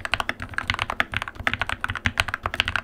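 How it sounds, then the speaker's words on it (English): Modded Keychron K4v2 mechanical keyboard typing with a deeper, thocky tone, fast continuous keystrokes heard close up and alone. "this dreamy, creamy, THOCC-y, beautiful sounding keyboard"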